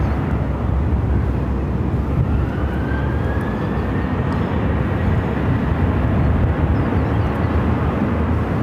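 A Delta Airbus A350 arriving from Boston on runway 26 at Phoenix airport, heard as a steady, loud broadband jet roar that holds throughout, with a faint rising engine whine partway through.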